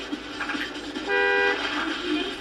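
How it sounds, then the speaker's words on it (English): Car horn honking in a video game, one brief sustained toot of about half a second rising over low game ambience and engine rumble, moderately loud and fairly close. "sometimes the cars in the game will honk for some reason"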